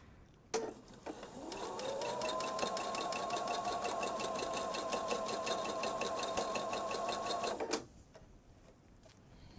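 A sewing machine runs one steady, continuous stretch of stitching along a bench pillow seam, close and fairly loud, starting and stopping cleanly with quiet before and after.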